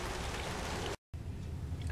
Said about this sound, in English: looking up at the sky and looking at the raindrops fall